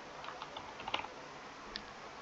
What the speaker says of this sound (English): You will just have to type your school ID again and then the password.